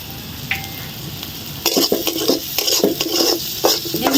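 Tengra fish frying with turmeric and salt in a pan, a utensil stirring and scraping steadily through a soft sizzle, quiet at first and then busier with repeated clinks and scrapes.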